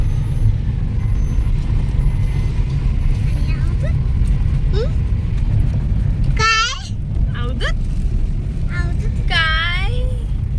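Steady low road rumble inside a moving car carrying two people, with passing traffic hum and a horn or brake squeal, while voices talk and someone speaks in the cabin.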